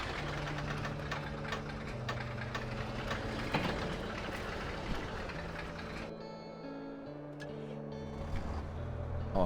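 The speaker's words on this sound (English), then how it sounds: "Oh, listen to that tractor. It's so quiet." A tractor engine in a farming video game holds a steady low mechanical hum with tonal engine notes that shift in pitch, accompanied by faint game ambience and no talking.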